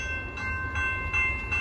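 A Norfolk Southern 30A freight train passes close by, a steady low rumble of rolling cars with a high ringing tone and faint rhythmic clanks, no talk.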